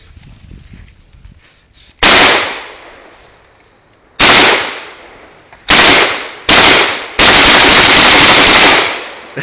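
An AK-47 rifle fires outdoors in five sharp, loud reports spaced a second or two apart, each ringing off before the next, the last one longer and sustained like a short burst.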